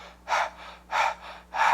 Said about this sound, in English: So the other one is panting.